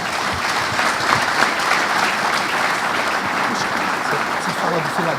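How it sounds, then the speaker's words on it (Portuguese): A crowd claps steadily and loudly throughout, a dense, even wash of applause with no pauses. "Vamos aplaudir."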